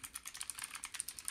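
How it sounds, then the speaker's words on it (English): Rapid typing on a Razer Huntsman Mini keyboard with clicky optical switches, a quick even run of sharp clicks recorded close but fairly quiet. "I do have the Razer Huntsman Mini here with their clicky optical switches, which is like the loudest keyboard I own"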